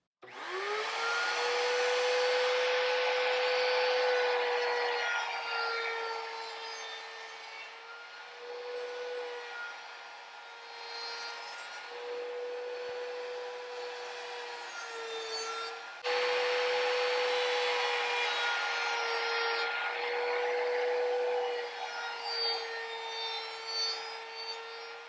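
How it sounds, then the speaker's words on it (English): A laminate trimmer clamped in a vise bevels the corners of a wooden deck beam for an International 2.4mR sailboat, a loud steady high-pitched whine with continuous cutting noise, briefly dipping mid-run before revving back up. "So I'm just going to use my laminate trimmer set in a vise here."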